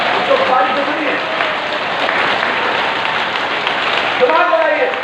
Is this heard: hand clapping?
yes